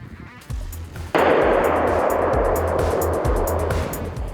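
Loud gunfire erupts during an Army 11th Special Forces Brigade maneuver shooting drill, a sudden heavy blast followed by a sustained rapid stream of close, dense shots over a low rumbling background.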